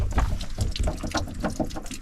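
Water splashes and gushes steadily from a leaking water tank on a van as it is filled in the remote Australian outback, the pump fitting having come loose; the sound is close, continuous and uneven, with no talking.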